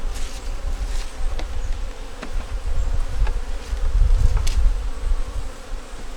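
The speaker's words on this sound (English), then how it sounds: "Bees will get in there in that bucket" Bees buzz steadily around a hive on a cool day, a dense low drone with individual insects flying close past now and then, swelling louder toward the end.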